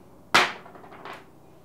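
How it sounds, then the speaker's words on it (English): A screwdriver used as a punch is struck once to drive a part through during a grinder gear replacement, giving one sharp, close metallic knock followed by a fainter secondary tap. "use it as a punch to get it the rest of the way through"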